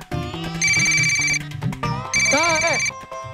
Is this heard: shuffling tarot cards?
no